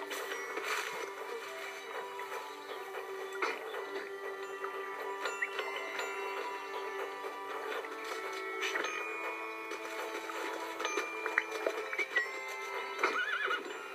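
Horse in a zoo video game, neighing and clip-clopping in steady repeated game sounds at a fairly quiet level, with no talk over them.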